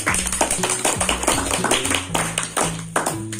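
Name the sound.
audience clapping at neighborhood election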